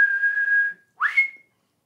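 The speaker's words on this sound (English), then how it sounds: "Ooh, that was a bad whistle." A person whistles a short musical motif: a long held note, a brief pause, then a quick upward slide to a higher sustained note, clear and close with no other sound.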